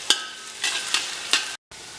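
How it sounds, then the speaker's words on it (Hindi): Onions frying in a pan for Bengali mutton curry give a steady soft sizzle, broken by several scraping stirs of a spoon at irregular intervals, heard up close with no talk. "लाइट ब्राउन हो चुके हैं और बहुत ही बढ़िया गल गए हैं प्याज हमारे।"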